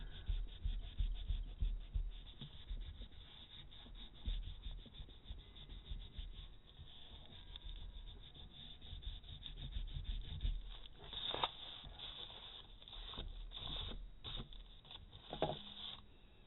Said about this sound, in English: And my good old pink school eraser here, which is a little more efficient than the one I used before.